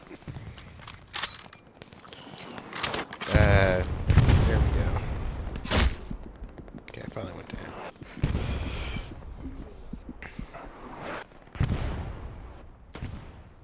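Rifle fire in Hell Let Loose, a World War II shooter, cracks out in scattered single shots and bursts, some close and loud, others more distant, with footsteps and voices talking over the battle.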